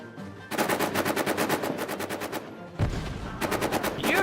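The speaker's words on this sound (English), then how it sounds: "Take out that machine gun and then we charge." Machine gun fire in the World War One trench game All Quiet in the Trenches: loud, close, rapid bursts of automatic shots, a short pause and a heavy thump, then more rattling volleys.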